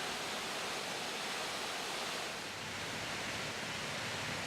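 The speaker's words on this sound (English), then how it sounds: "you can see the raging channel of water going down to the falls" A raging channel of water rushing toward a waterfall at Clifty Falls State Park, a steady, loud, broadband roar with no breaks, close and unchanging throughout.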